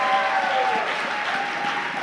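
A church congregation applauds at a baptism service in Milan, a steady wash of clapping from many hands filling the room without pause.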